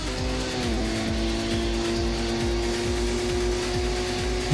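A race car engine in Gran Turismo on PlayStation 1 drones at high revs down the final straight, with steady buzzing tone and regular rhythmic gear-like dips, loud and continuous without talk.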